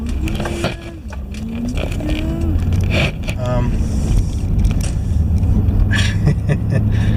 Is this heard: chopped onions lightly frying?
no